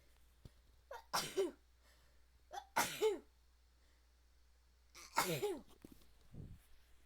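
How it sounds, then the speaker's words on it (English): Three sharp sneezes, each with a quick intake of breath before it, separated by quiet pauses, close and fairly loud. "Hopefully I'm done sneezing."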